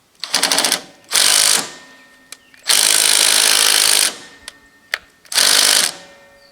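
A power drill whirs in four bursts, up close and loud, with short clicks and pauses in between, working on an old Ariens walk-behind machine.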